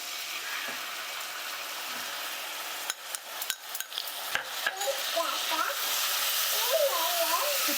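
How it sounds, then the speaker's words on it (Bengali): Ginger-cashew paste and whisked yogurt frying in a pan, a steady broad sizzle with scraping stirs and a few sharp utensil knocks on the pan midway, the sizzle swelling louder toward the end. "আদা আর কাজু বাদাম বাটাটা এবার আমি দিয়ে দিচ্ছি ফ্যাটানো টক দই"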